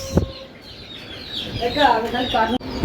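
Chickens at a poultry farm stocked with native desi, Sonali and layer birds cluck and call in short bursts, growing busier toward the end, with farm background noise.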